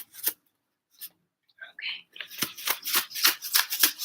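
Chakra affirmation cards being shuffled close up, a few soft isolated riffles at first, then a quick run of crisp, rhythmic card flicks building in loudness toward the end, with no voices.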